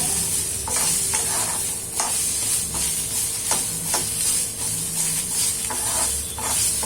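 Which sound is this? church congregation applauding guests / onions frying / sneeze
onions frying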